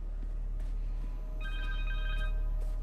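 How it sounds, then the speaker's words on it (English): A cell phone in the game Spider-Man 2 rings with a brief, bright electronic ringtone that cuts in midway over a steady low hum and soft background activity. "Phone! Connor's cell phone."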